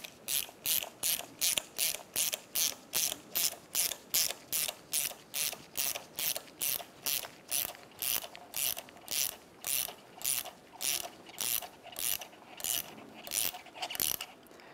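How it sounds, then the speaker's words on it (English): A hand ratchet clicks in about two dozen evenly spaced bursts while it tightens a 17 mm nut on the rear strut of a 2009-2010 Pontiac Vibe, crisp and close with short pauses between strokes. "We'll use the Allen head socket to hold the shaft still while we tighten our 17 millimeter nut."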